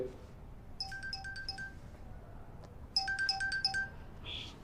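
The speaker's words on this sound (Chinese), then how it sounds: "不好意思，我接个电话。" An electronic phone ringtone plays a short repeating melodic pattern twice, with a pause between bursts, fairly quiet against a hushed room.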